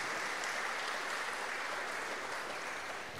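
Steady applause from a congregation at a Christian church service, a dense, even patter of many hands clapping throughout, moderately faint and with no talking over it.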